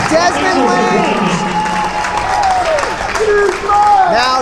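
A home basketball crowd at a high school tournament game cheers and applauds in a loud, sustained roar while a commentator talks over it, and sharp sneaker squeaks from the court cut through.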